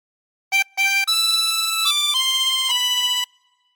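Chromatic harmonica playing a short sustained-note phrase from the Star Spangled Banner, about six steady reedy tones in a row after a brief opening pair, clear and close with no talking.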